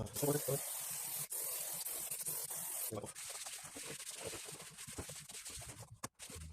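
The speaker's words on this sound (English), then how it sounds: "for faded engine covers, I like to use the Liquimoli silicone spray" Long hissing bursts of a Liqui Moly silicone aerosol spray on a faded car engine cover, close and steady, followed by a few shorter spritzes and quieter rustling.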